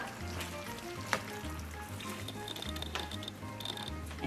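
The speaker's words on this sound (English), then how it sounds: "I'm gonna put this onion into the pan of the taco salad, the taco sauce, and then we just gonna turn this on low" Onion softens in taco sauce in a pan over low heat for a taco salad, making a faint, even sizzle with light crackles and a soft knock partway through.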